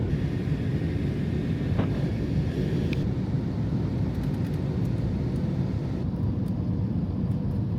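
A passenger airplane on a flight to Urumqi gives off a steady, unbroken cabin drone and rumble, constant and moderately loud with no speech.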